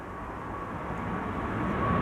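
A KLM Boeing 777-300 wide-body jet on the ground at the airport, its engines a steady low rumble with a faint whine, slowly growing louder and closer.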